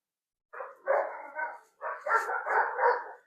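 A dog gives a few yappy barks in two quick bursts, fairly close, against a silent background.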